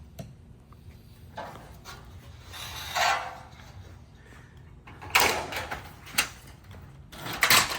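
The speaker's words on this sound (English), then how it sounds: "And the rake clicks right on top" Metal roof rake trim clicking onto a metal roof panel, with a few sharp clicks and scraping rubs at close range, separated by quiet pauses, no voices.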